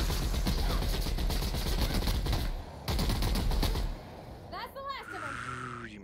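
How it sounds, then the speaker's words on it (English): Rapid automatic machine gun fire from The Outer Worlds video game, loud and sustained in dense bursts with a brief gap, then giving way to whooshing, rising and falling sci-fi effect tones. "Die Machine Gun ist gut."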